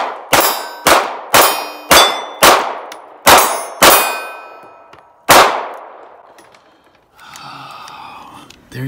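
A Ruger LCP MAX .380 pistol fires its final rounds: eight loud, sharp reports spaced irregularly, each trailing a ringing decay. Heavy breathing or a sigh follows the last shot.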